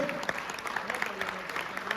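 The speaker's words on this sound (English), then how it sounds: "give a huge round of applause for each and every one of you" A business conclave audience clapping, a steady, moderately distant patter of many hands with a voice talking over it throughout.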